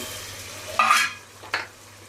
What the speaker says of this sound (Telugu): వేసుకొని బాగా కలుపుకోవాలి టమాటా మగ్గనివ్వాలి